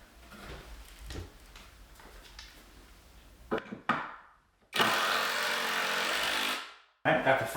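A power driver sinks screws into a wooden work table, with short whirring bursts after some clicks and handling noise, then a long, steady, loud drive that winds down before a final brief burst.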